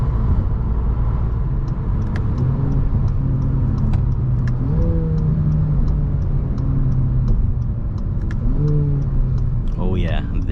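A 2022 Acura ILX compact sedan's engine revs and accelerates repeatedly from inside the cabin, rising and falling in pitch with each gear, loud and close, with a person talking over it.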